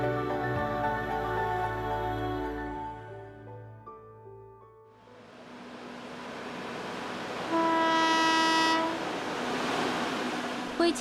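An Alishan Forest Railway train runs steadily at an Alishan depot, rumbling and clanking, then sounds a loud sustained horn toward the end, with a brief pause in the middle of the run.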